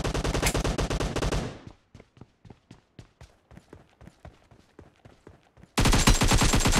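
Gunfire in PUBG Mobile: a dense, loud automatic burst opens, then a run of rapid separate shots with small gaps, and another heavy sustained volley crashes in at the end, close and punchy.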